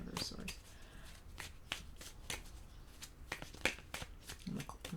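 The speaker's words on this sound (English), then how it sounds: "I'm gonna shuffle one more time." Tarot cards are shuffled by hand in quick riffling bursts, crisp and close, with a voice speaking softly between the shuffles.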